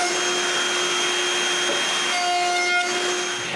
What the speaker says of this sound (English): I route a roundover on both pieces.